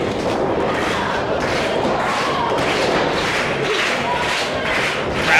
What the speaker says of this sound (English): Crowd rallying behind the American Wolf.